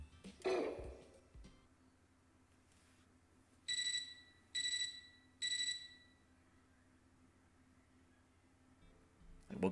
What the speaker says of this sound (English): I woke up to a ringing sound like an alarm clock.